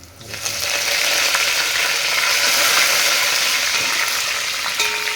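Spinach and curry leaves frying in a pan, a steady broadband sizzle that starts abruptly and holds loud and close throughout, with occasional faint clinks.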